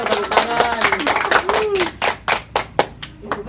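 Loud, uneven clapping from an audience at a Betawi comedy lenong show, close and sharp, with voices talking and calling out over the first half before the claps turn into distinct separate beats.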